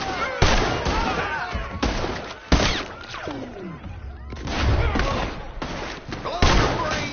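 Gunfire during a shootout in Red Dead Redemption 2, with loud, sharp shots cracking at irregular intervals among echoing reports and shouting voices.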